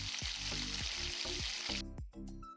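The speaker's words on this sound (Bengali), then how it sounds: "তেল পুরোপুরি গরম হয়ে এলে চুলার তাপ মিডিয়ামে রেখে ফিশগুলো ফ্রাই করে নিতে হবে।" Fish fingers fry in hot oil over medium heat, a continuous sizzle with some tonal, swooping sounds layered over it before the sound thins out near the end.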